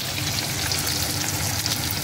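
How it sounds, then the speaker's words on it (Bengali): Fish frying in a pan, a loud, steady close-up sizzle with crackling and spitting oil throughout, no voices over it. "এত সুন্দর তুই মাছ ভাজিস,"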